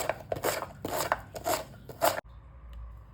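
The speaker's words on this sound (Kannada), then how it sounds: "ಹಚ್ಚುವಾಗ ನೋಡಿ ಈ ಥರ ತಕ್ಕೊಳ್ತಾ ಇದ್ರೆ ಹಚ್ಚೋದು ಸುಲಭ" A knife chopping fibrous banana stem on a board, with a quick run of about five crisp cuts followed by a brief quieter pause.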